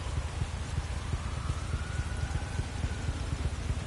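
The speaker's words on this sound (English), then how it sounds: "Look at the rain." Rain falls during a motorcycle ride in the racing game The Crew 2: a steady, dense patter of drops over a low rumbling undertone, continuous and even.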